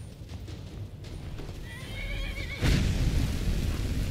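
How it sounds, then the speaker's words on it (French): A horse in Skyrim whinnies during a fight with a dragon, its neigh rising clearly over hoof clip-clops and a heavy thundering impact that lands partway through. "il y a mon cheval qui est en train de lui mettre la misère"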